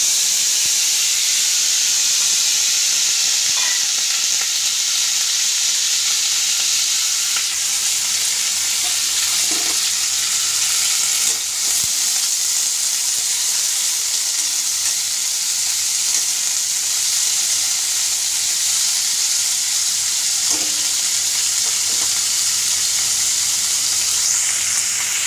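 Mixed vegetables frying in a little olive oil in a pan, a loud, continuous hissing sizzle with faint stirring clicks scattered through, heard up close without any talking.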